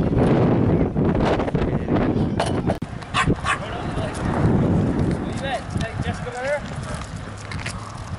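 A Newfoundland dog barks and then lets out high, wavering whimpers and yips. The sounds are close and loud, with wind buffeting the microphone. People talk and move around nearby.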